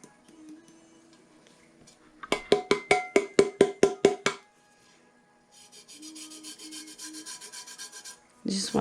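Rhythmic scraping strokes as a glitter tumbler's surface, coated with Plasti Dip and a full-sheet water slide, is rubbed down by hand, about a dozen quick close passes followed by softer, steadier rubbing and a final louder scuff.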